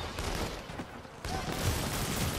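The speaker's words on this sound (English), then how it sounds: "How do you like my machine gun?" Machine gun fire from inFAMOUS Second Son, a dense crackling burst of rapid shots running through the clip, dipping briefly before resuming loudly near the end, with game sounds layered in.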